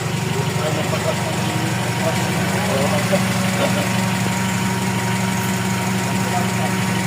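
A Toyota Corolla with a 2E engine idles after an idle adjustment, settling into a steady, even low rumble that stays close and loud from start to end, with voices talking over it.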